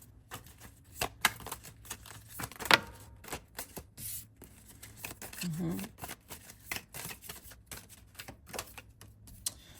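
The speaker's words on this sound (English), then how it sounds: "what I wanted to do was pull a few cards" Tarot cards are shuffled and pulled by hand as a scatter of short, soft papery riffles and taps, with a low hum beneath and no talking.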